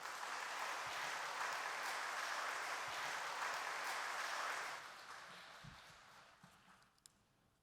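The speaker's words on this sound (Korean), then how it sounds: "목사님 나오실 때에 큰 박수로 환영하겠습니다." A Korean church congregation claps at a Sunday afternoon service to welcome a pastor to the pulpit. The steady, fairly faint, roomy applause lasts about five seconds, then drops away to near silence.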